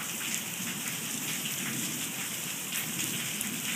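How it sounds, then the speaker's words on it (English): Steady rain pours down early on a stormy morning, a dense continuous hiss of drops striking surfaces nearby, with no voices or other sounds over it. "Another rainy, stormy day, early in the morning."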